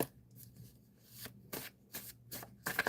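Tarot cards being shuffled in several quick riffling bursts, soft and close, with short pauses between shuffles and no talking.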